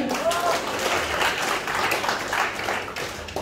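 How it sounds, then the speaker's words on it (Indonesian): An audience at a morning religious talk on Hajj prayers applauds, the dense, continuous clapping filling the room from start to finish at steady loudness before thinning slightly near the end. "Tepuk tangan dulu untuk kalian semuanya"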